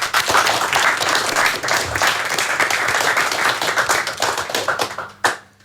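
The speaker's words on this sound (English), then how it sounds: "Big clap for everybody." Loud, close audience applause for hip-hop guests at a radio station visit, a thick burst of clapping that thins out near the end, followed by a sharp knock.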